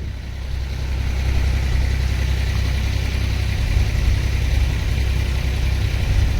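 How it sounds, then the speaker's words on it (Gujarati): A tractor engine idles close by on a farm, a loud, steady low rumble that holds unchanged throughout with no voices. "ટ્રેક્ટર આવી ગયું"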